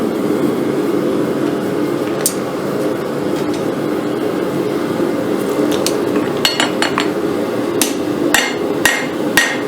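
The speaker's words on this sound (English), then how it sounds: "We're going to keep hitting right here at this where we want to form our choil with glancing blows with our hammer" Repeated metallic hammer strikes forging a railroad spike into a knife ring out at an uneven pace over a steady low hum, growing sharper and more frequent toward the end.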